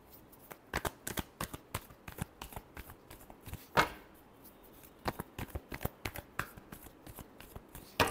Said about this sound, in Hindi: last shuffle